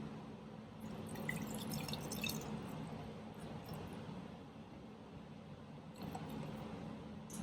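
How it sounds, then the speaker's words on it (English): Vinegar is poured into a jar over an egg, making a faint, soft trickle with a few light drips, heard close and quiet, with no one speaking. "And then you're gonna put enough vinegar in to cover the egg."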